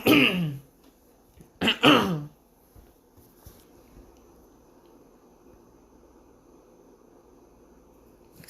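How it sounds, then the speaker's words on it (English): Two throat clears from a podcast host, close and loud, the first sharp and the second a longer double rasp, followed by quiet room hiss. "I had to clear my throat"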